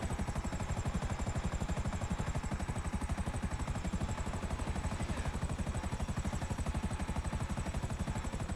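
Helicopter in GTA V Online with a steady, loud rotor chop pulsing rapidly and evenly over a constant engine whine, close and continuous with no speech.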